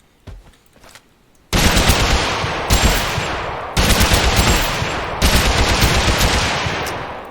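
A SCAR assault rifle fires in the game TABG: loud full-auto bursts follow a quiet moment, as three or four sustained strings of rapid shots, each ending in a decaying tail.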